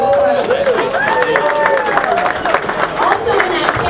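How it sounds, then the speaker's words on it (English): An audience at a UCLA Football 2014 National Signing Day event at Barneys applauds and cheers in a loud, steady wash of clapping with scattered whoops. "give yourselves a round of applause"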